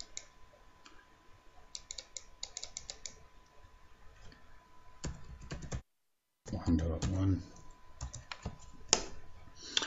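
Rapid clicking keystrokes on a computer keyboard come in quick bursts as a router address is entered. A short silent gap cuts the typing, and a voice speaks briefly over it.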